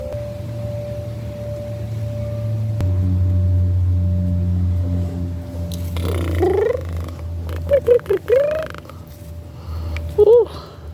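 A half-wild orange barn cat purrs steadily in a low, continuous rumble close to the microphone, and a voice comes in over it toward the end.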